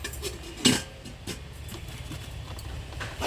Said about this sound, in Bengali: এবার কৌটোটা ধরে জলের ভিতর এবার আমি ঢাকা দিয়ে দিচ্ছি